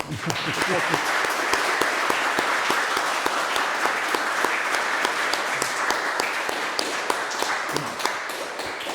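Sustained applause from an audience closing a public conversation event with pianist Arie Vardi, dense steady clapping filling the whole stretch with a few sharper individual claps standing out.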